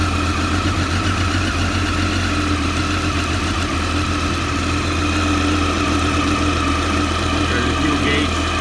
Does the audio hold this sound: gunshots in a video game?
no